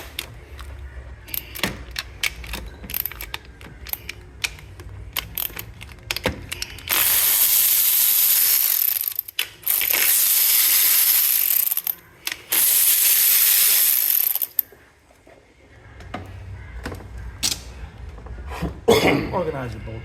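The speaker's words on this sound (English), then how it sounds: "Now, I'm gonna go ahead and take the supercharger bolts loose." Ratchet working on the supercharger bolts of a 2010 Audi S4 3.0, heard as three loud sustained bursts of rapid clicking in the middle, with quieter clinks and handling noises before and after.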